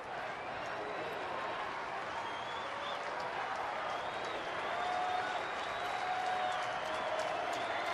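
Baseball stadium crowd at a major league game cheering and applauding, a broad sustained roar of clapping and voices from the stands that swells slightly toward the end, with no close speech.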